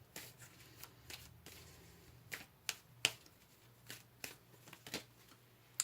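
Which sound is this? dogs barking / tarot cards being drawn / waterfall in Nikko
tarot cards being drawn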